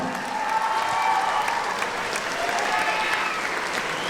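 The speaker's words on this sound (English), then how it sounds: "how about a round of applause for these two young guys?" Audience applause after an amateur boxing bout, a steady wash of clapping from a crowd filling the hall, sustained at an even level for several seconds.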